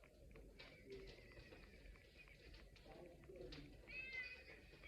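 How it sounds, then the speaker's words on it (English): A cat meows at a door, a few short mewing calls rising over steady background noise and faint voices. "Is she aware of the cat on the door?"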